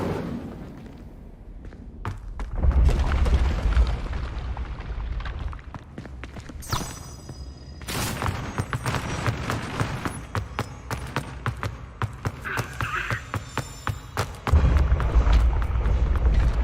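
Incendio fire spell blasts in Hogwarts Legacy, with repeated thudding booms and crackling bursts scattered across the stretch, a heavy low blast near the start and another strong one late, amid ongoing game effects.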